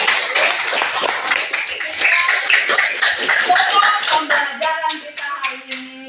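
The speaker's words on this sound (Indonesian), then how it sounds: "Tepuk tangan dulu dong untuk kita semua." Students clapping together at the end of a class meeting, a burst of group applause with some chuckling that thins into a few scattered, distinct claps.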